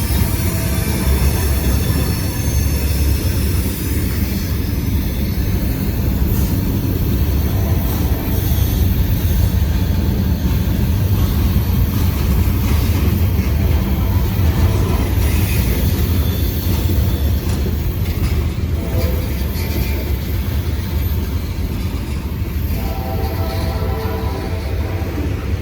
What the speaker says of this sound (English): there's a Norfolk Southern intermodal train. It's going to be passing this one going in the other direction